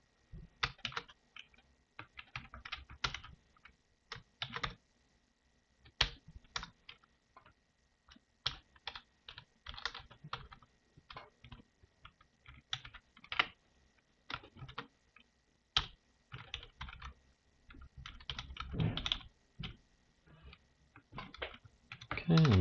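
Someone types on a computer keyboard while editing a hosts file, with irregular bursts of close, crisp key clicks separated by short pauses.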